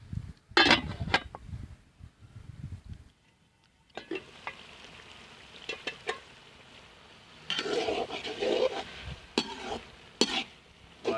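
A lid is set on a pot of spinach cooking in spices, with clattering metal contacts and sharp knocks over low sizzling and stirring. Kitchen handling noises come in bursts, with a quiet pause midway.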